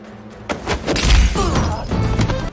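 A cup shattered by a punch in a film scene, a sudden crashing break followed by a tumbling, rattling burst of debris and low thumps, loud and close, with a faint voice underneath.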